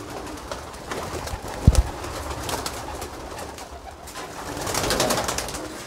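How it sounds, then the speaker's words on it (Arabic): A flock of female pigeons is released and takes off, with cooing and fluttering wingbeats blending into a busy, close rush of bird sound. One sharp low thump sounds near the start. "عاد نطلق الحمام على بركه الله غنطلقوا الاناث كيف العاده"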